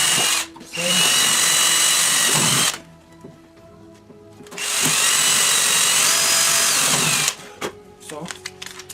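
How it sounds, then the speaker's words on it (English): A power drill bores a hole while building a Seawind, two long loud whining bursts separated by a quieter pause, ending with scattered clicks and handling noise. "Let me see if the drill is big enough."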